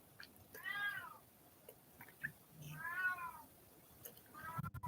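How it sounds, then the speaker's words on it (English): An older cat meows and cries outside a door in a hallway, three drawn-out wavering calls at a moderate distance, separated by quiet gaps with faint background rustle. "My older cat is crying right now outside my door."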